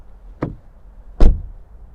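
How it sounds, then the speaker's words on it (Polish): Two solid thuds of a BMW X3 30e plug-in hybrid's door shutting, a light one followed by a heavier, louder slam, with quiet between them. "Minusem są niewygodne klamki drzwiowe oraz dźwięk zamykania drzwi."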